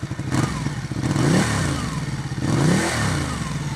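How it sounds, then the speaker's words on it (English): A Ducati Panigale 899 or 1199S sportbike revs its exhaust hard twice, rising and falling engine roar up close, with no talk over it. "These exhausts, even if they're standard, they sound so good."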